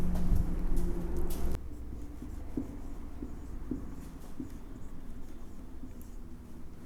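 Chalk or marker writing on a board during a physics lesson on critical angle and total internal reflection: a loud scrape at first, then steady faint scratchy strokes with small taps, close by and without talk.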